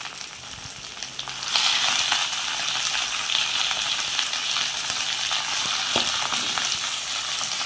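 Chicken pieces frying in a pan with masala, a broad, even sizzle that jumps louder after the first couple of seconds and stays close and constant, with a faint knock partway through and no voices.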